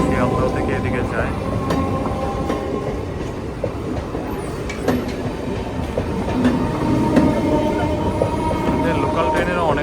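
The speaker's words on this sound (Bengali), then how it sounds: "লোকাল ট্রেনেরও অনেক স্পিড" An electric local train runs past near Millennium Park in Kolkata with a loud, continuous rumble and rhythmic clickety-clack of wheels, plus occasional faint squeals, close by for the whole stretch.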